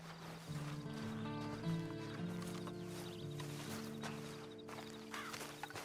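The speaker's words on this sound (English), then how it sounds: "Then you better get on this horse." Horse hooves clip-clop and a whinny rings out in the Red Dead Online video game, with sustained tonal background music playing underneath throughout.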